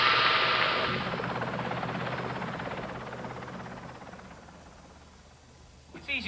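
Rescue helicopter in flight, its steady broadband rotor and engine roar loud and constant throughout, easing slightly toward the end, with a brief clatter of cabin sounds at the close.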